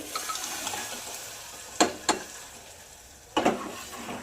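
Chopped cooked spinach being stirred in hot oil for a palak bhaji, a soft continuous sizzle with a few sharp scrapes of a spoon against the pan, close and fairly quiet.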